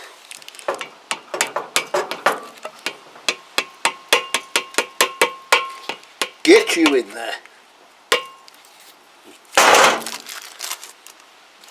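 Metal parts are hammered into a Kawasaki GPZ500S swingarm with a quick series of sharp, ringing taps that speed up, then a few heavier blows and a scraping clatter, with someone briefly speaking.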